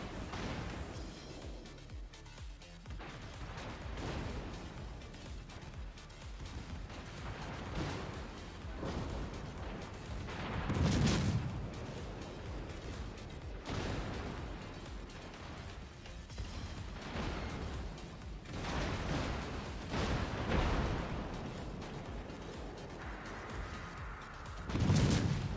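Torpedoes from a Tier VIII Russian cruiser, the Tallinn, strike a ship in World of Warships: repeated heavy booming impacts and explosive rumbles, with louder bursts near the middle and end over a continuous game background.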